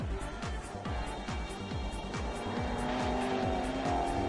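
A GT4 race car at Paul Ricard takes a fast corner at around 200 km/h, its engine droning loudly with repeated rising-and-falling pulses and a steady interior roar, close and continuous.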